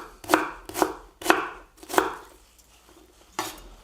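A knife chops potatoes into small cubes on a cutting board, with about six sharp, close knocks spaced unevenly and no talking.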